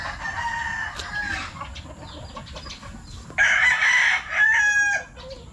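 Chickens cluck and squawk around a morning feeding while a rooster crows loudly twice, its long call rising over the flock's steady chatter.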